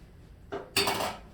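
A dish set down into a kitchen sink, two quick clattering contacts, a short knock followed by a louder, ringing clatter that fades, close and with no talk.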